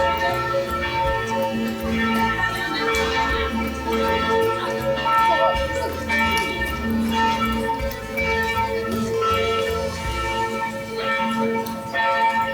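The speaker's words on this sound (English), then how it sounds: "Just listen to the bells." Church bells ring continuously in Paris in a loud, reverberant clang, layered with a steady hum of crowd noise.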